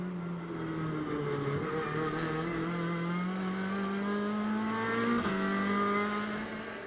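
Onboard TCR touring race car lapping Termas de Rio Hondo, engine droning loud and steady with rising harmonics as it accelerates through the gears, a brief shift dip near the end, no voices.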